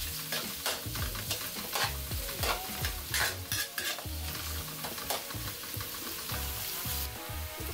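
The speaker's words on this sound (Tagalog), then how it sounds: "At ayan naman ang ating sibuyas. Gisay rin natin yan hanggang sa lumambot." Onions sautéing in a pan, soft close sizzling under repeated scraping and tapping of a spatula as they are stirred in uneven bursts, with no one speaking.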